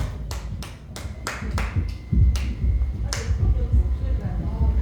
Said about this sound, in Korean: 수진 가수 박수 주세요